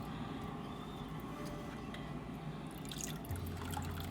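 Extra chicken soup poured into a pot, a steady liquid trickle and dribble with faint drips, close and moderately quiet, with a low kitchen hum underneath and no talking.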